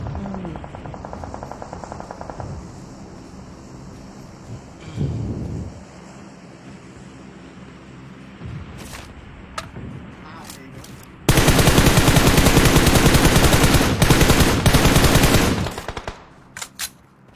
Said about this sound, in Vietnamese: Sao tao bắn nó nhiều lắm đó nó không chết vậy?